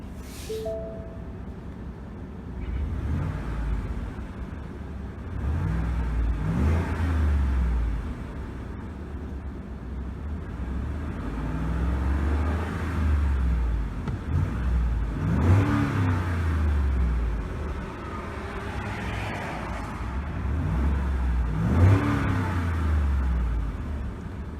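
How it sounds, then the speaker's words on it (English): A 2017 Ford F-150 Lariat SuperCrew with a V8 engine idles and then revs repeatedly, its deep burble rising and falling in several loud, swelling pulls close by. "really do like that V8 burble compared to the little turbo whine of the EcoBoost engine"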